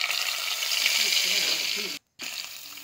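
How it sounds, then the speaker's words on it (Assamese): Pieces of fish sizzle and crackle in hot oil in a wok, a steady frying hiss broken by a brief gap, with a faint voice underneath. "তেলখিনি গৰম হোৱাৰ লগে লগে তাতে মাছখিনি মই দি দিলোঁ"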